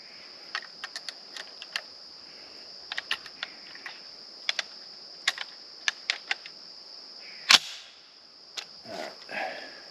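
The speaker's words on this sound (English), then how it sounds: "I'm just going to load it in the chamber and let the bolt go." An M1 Garand being loaded, a round pushed into the chamber and the bolt released, outdoors. Scattered sharp metallic clicks and taps, then one louder clack near the end as the bolt closes.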